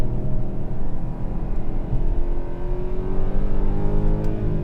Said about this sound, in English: this thing sounds like a sports car